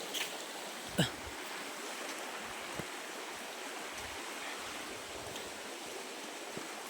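A forest creek swollen after rain rushes steadily, a constant broadband wash of water with a few faint knocks and no talking.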